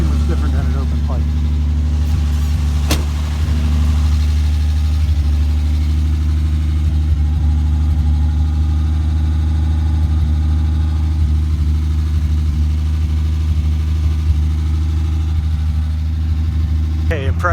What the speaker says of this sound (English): Definitely has a nice little rumble to it. Okay, so it sounds like a Slant Six.